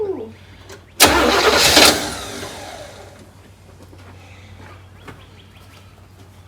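A neglected 1972 big block engine cranks briefly and then fires with a loud burst, revving for about a second before settling into a lower, steady idle, with birds faintly audible in the background.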